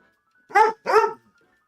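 A dog gives two loud, close barks in quick succession, each about a third of a second long, separated by a short gap, with quiet before and after and no voices present.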